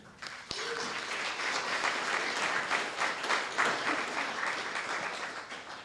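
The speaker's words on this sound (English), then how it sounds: "please help me give a round of applause to our speakers today" An audience at a monthly transportation-systems meeting applauds the day's speakers, with a sharp knock at the start, then even, continuous clapping from a room of people that tapers slightly at the end.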